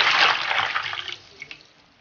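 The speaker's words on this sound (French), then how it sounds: "Verse 3 litres d'eau que tu as préalablement chauffée." Heated water, about three litres, is poured into a basin, making a loud splashing gush that tapers off within a second or two into a few faint drips.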